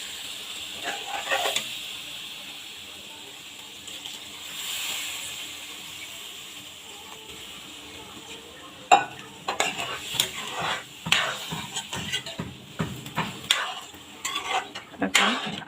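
A little spice-rinsing water poured into a pan of fried spice paste for a fish-head and potato curry: a soft hiss rises first, then rapid clattering stirring and scraping against the pan over a continuing sizzle.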